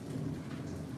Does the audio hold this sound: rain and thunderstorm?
yes